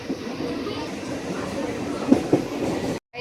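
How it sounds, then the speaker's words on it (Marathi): A local train carriage on the way to Bandra rumbles steadily from inside, with a couple of sharp clunks near the two-second mark before the sound cuts off abruptly. "बसलो ट्रेन मध्ये."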